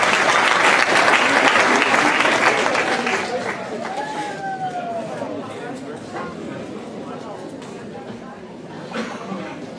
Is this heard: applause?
yes